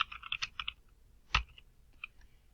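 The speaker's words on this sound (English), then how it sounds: "I'm going to go ahead and type my name." Typing a name on a computer keyboard, with a short flurry of close, clear key clicks, then a single heavier keystroke and a couple of scattered taps in a quiet room.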